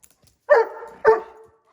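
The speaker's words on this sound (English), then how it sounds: "She's the quintessential bird dog." Two sharp barks from a bird dog, each a loud, close yelp with a short falling tail, spaced about half a second apart in an otherwise quiet room.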